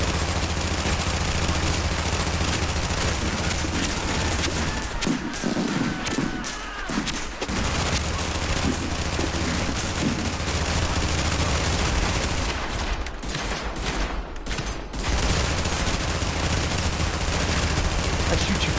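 Sustained gunfire from the shooter game The Division, dense overlapping shots and bursts running almost continuously, with brief lulls, and faint voices mixed in.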